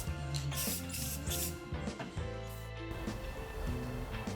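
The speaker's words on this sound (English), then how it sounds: "the primer's dry, so it's time to paint all those suspension arms" Satin black spray paint hissing from an aerosol can onto car suspension arms, steady spraying under a background of music with no clear bursts or pauses.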